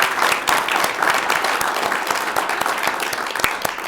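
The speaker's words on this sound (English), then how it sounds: "how about a round of applause for our Citizens Academy graduates?" Audience applause at a city commission meeting honoring Citizens Academy graduates, a steady wash of many hands clapping with no talk.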